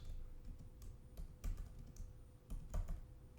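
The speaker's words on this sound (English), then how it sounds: "Right, I'll go ahead and type that in." Keys clatter on a computer keyboard as a web search is typed, giving quiet, irregular clicks and short bursts of taps at close range with no voices.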